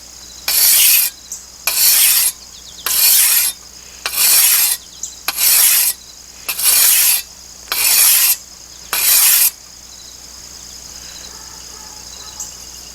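A rusty hand weeding tool scrapes against a rock in eight evenly spaced, harsh rasping strokes, each about a second long, close and loud, before falling quiet.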